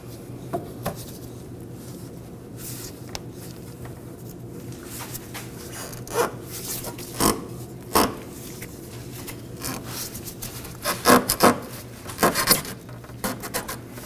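A rubber fuel filler hose is worked onto the filler neck of a 2018-2024 Chevrolet Equinox 1.5L, giving scattered rubbing, scraping and squeaky knocks close up, clustering into quicker bursts near the end.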